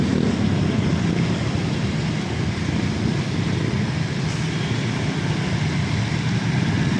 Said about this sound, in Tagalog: may nakita tayong motor oh, parang jet ski oh